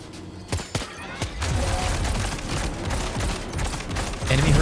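Gunfire in the video game Death Stranding 2: a couple of sharp shots followed by a sustained rattling volley over dense game noise, moderately loud and close.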